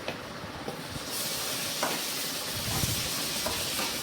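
Tomatoes frying in a pan for spicy chicken curry give a steady close hiss and sizzle that swells after the first second, with faint stirring scrapes underneath and no talking.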